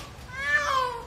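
A cat, one of a mother and her kittens being moved to a rooftop shelter, lets out a single drawn-out meow that rises and then falls, fairly close and alone.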